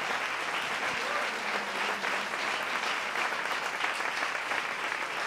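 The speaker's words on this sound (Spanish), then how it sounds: "Así que recibamos con un fuerte aplauso a Lorena Calero" Audience applause at an evening stage show, steady dense clapping from a crowd at moderate distance, continuous throughout without breaks.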